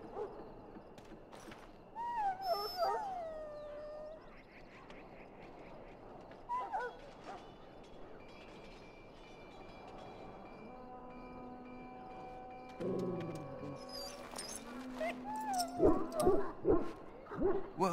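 In a Dragon Age Origins scene a sick dog whimpers and yips in high, wavering cries, then gives a few sharper barks near the end, over quiet ambient game music.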